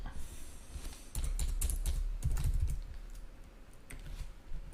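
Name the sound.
typing on a computer keyboard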